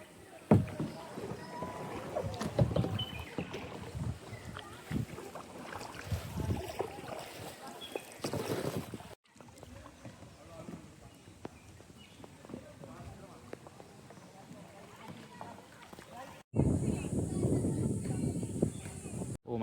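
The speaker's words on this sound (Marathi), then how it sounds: "माझा भाऊ आता तो कयाक चालवतो आहे" A kayak paddled through mangroves near Malvan gives irregular splashes and paddle strokes in the water, close by, with voices talking over much of it and a louder splashing burst near the end.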